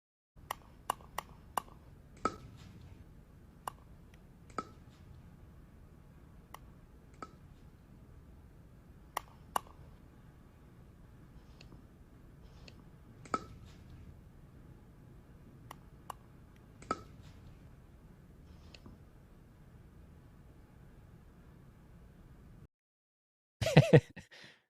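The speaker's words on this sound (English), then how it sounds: "I got the sounds from his other videos that he posted of him hitting the ball with a paddle" Pickleball paddle strikes on a ball, added as sound effects: sharp, isolated pops spaced irregularly over a quiet background, with a denser cluster of louder hits right at the end.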